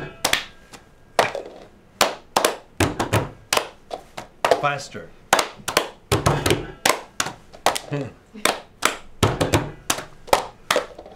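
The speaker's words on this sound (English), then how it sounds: "Clap, clap." Hands clap in a steady rhythm, crisp sharp claps in quick pairs and runs repeating for about eleven seconds, close and fairly loud, with brief speech between them.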